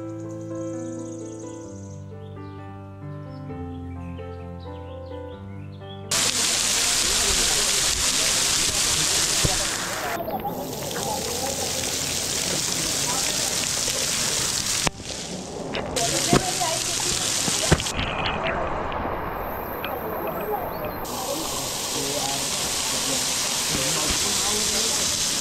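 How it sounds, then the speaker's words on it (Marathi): A waterfall on the Sondai Fort trek near Karjat, Raigad, roars as a dense, steady rush of falling water that starts abruptly after a quieter opening. The sound cuts out briefly a few times, then returns loud and close. "फायनली आपण या धबधब्याजवळ येऊन पोहोचलो आहोत."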